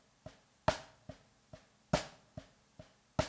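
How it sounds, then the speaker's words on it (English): Drumsticks tap out a steady pattern on a practice pad: quiet, dry, evenly spaced strokes with a few sharper accented hits recurring in a regular cycle, alone and close. "Here's how you really should be practicing this first and foremost on a pad,"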